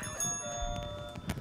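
Hand bells rung by an audience at a launch event give bright, sustained metallic tones with several overlapping dings and light clatter, fairly close and with no talking.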